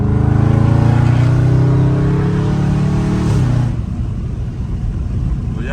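A catless Dodge Scat Pack in track mode roars loudly under hard acceleration, a close, rising exhaust note that climbs steadily for several seconds before dropping back to a lower rumble.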